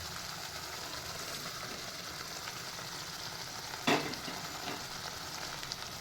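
Fried pointed gourd sautés with poppy seed masala in a pan, giving a soft, steady sizzle with one sharp clatter of stirring partway through.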